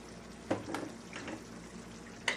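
Vegan meat alternative being stirred in a pan, giving a soft, faint sizzle with a few scraping stirs and a sharp utensil clack near the end.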